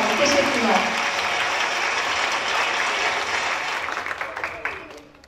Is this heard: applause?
yes